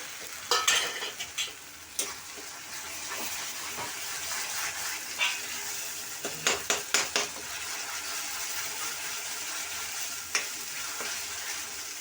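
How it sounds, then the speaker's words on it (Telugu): Ginger paste sizzles in a pan for an Andhra-style chicken curry with fried tomato. A soft, continuous hiss is broken by clattering stirring strokes that bunch together near the start and again midway. "అల్లం పేస్ట్ అయితే బాగా వేగిపోయింది."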